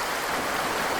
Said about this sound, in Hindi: बहता हुआ पानी